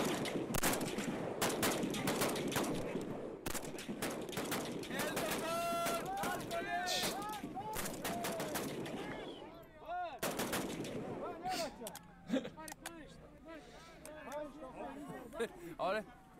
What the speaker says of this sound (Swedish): Då skjuter vi ett skott var.